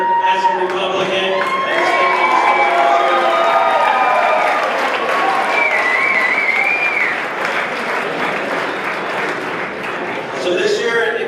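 Loud, sustained applause fills a room at a Republican election watch party in Iowa, with cheering and whoops mixed in throughout and a brief dip before it swells again.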